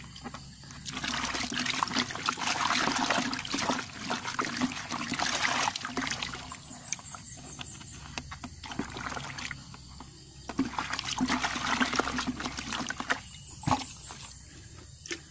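A rubber latex mixture is stirred with water in a plastic bucket, giving close, continuous sloshing and swirling liquid sounds in long bursts with a short lull midway, and no talking.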